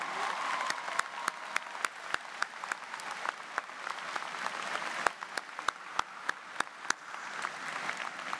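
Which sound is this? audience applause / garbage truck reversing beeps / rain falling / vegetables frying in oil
audience applause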